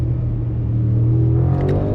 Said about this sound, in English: That is one roaring V8 right there.